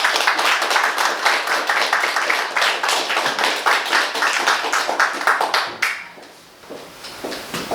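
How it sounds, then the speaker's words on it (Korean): An audience at a history lecture in Gunsan claps in a lively, slightly rhythmic burst of individual hand claps, dropping away after about six seconds to a few scattered claps. "큰 박수 부탁드립니다."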